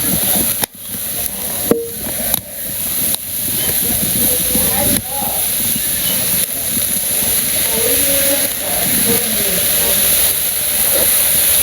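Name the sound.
greens frying in wok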